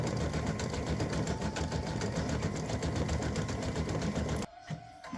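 An embroidery machine stitches red stripes on an in-the-hoop mug rug with a fast, steady mechanical chatter, close and continuous, before it stops abruptly near the end.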